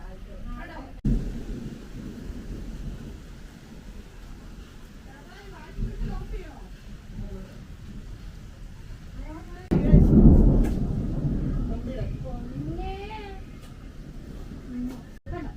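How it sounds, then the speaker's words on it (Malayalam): Thunder rumbles as rain approaches a Kerala home on a sunny evening, low broad rolls building to a stronger close burst near the middle, with scattered voices and faint animal cries mixed in. "മഴ വരുന്നുണ്ട്, മഴ."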